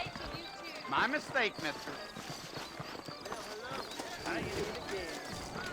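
Horse hooves clip-clop in the Western video game Red Dead Redemption, a steady rhythmic walk under speaking voices and other game sounds at moderate loudness.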